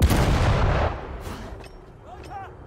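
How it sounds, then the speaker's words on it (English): A loud explosive boom and blast rumble from the VR game Sniper Elite VR, burst first and then decaying into a fading roar, with brief voice sounds afterward. "Many things exploded around me then."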